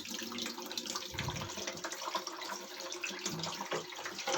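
Water runs into a toilet flush tank under repair, a faint, steady splashing trickle that continues unbroken for a few seconds without talk.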